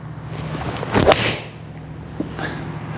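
A single sharp whooshing click of a Callaway Apex golf iron striking a ball, followed by a faint swish, over steady low outdoor hum.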